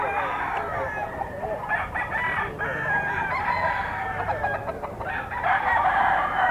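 Young gamecocks (stags) at a sale in Bocaue crow and cluck together in a busy, continuous chorus, several birds close by with overlapping calls.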